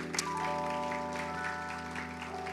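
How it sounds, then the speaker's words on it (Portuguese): A church audience applauds to welcome Pastor Carlito Paes: dense, steady clapping for the full stretch, layered over sustained musical tones and a low hum. "Queria que vocês o recebessem com uma salva de palmas"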